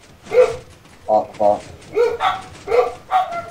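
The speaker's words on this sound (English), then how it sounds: "And there go my dogs." Dogs in Minecraft barking repeatedly, about seven short yapping barks in an uneven rhythm, close and clear, with a player swearing briefly.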